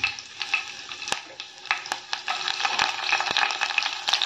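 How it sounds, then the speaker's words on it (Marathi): Curry leaves and green chillies hitting hot oil give a steady close sizzle and crackle, with a few sharp spatters and spoon scrapes, and no voices. "इथे तेल गरम केलं आहे, तेलामध्ये कढीपत्ता टाकला"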